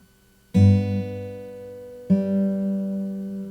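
Two fingerpicked acoustic guitar chords from the introduction of a song ring out slowly, each struck once and left to sustain, the second entering about a second and a half after the first.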